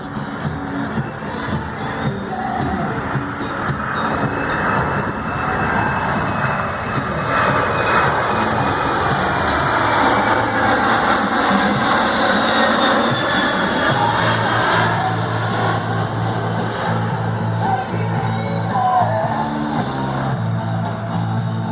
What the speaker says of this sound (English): The aircraft is now maneuvering